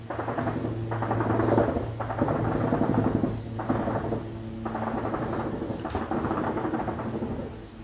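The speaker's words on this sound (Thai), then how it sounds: "เฮลิคอปเตอร์พม่าบินโจมตีฮะ" A Myanmar military helicopter flies nearby on an attack run over Myawaddy, a steady, loud rumbling drone with a low hum that swells and eases in long waves.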